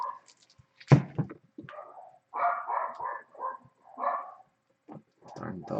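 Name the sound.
dogs barking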